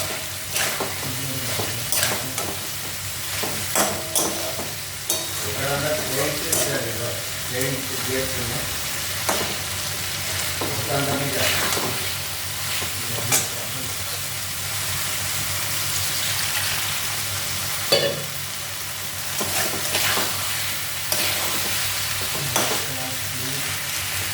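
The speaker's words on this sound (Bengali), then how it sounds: "ডিমটা শুদ্ধই মশলাটার সঙ্গে এরকম করে দিতে হবে, মিশিয়ে দিতে হবে।" Egg being stirred into spice masala in a pan for an egg curry sizzles and fries steadily, with scraping spoon strokes against the pan recurring throughout and brief bits of speech in between.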